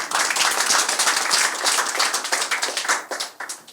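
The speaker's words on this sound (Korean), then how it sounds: "박수 한번 치겠습니다." Audience applause at a Korean animation premiere and seminar: dense, sustained clapping from a full room, loud and steady before thinning out near the end, with no talking.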